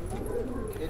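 A crested female jungle pigeon coos softly and steadily at close range in a loft, with a continuous low murmur over the whole short stretch.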